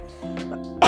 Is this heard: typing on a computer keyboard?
no